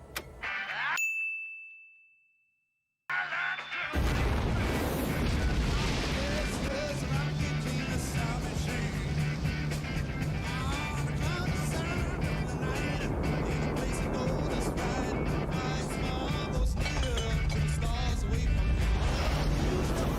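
Rocket launch heard at close range: after a ding and a short fade to silence, a massive, continuous roar kicks in abruptly and stays loud and unbroken to the end, with no voices over it.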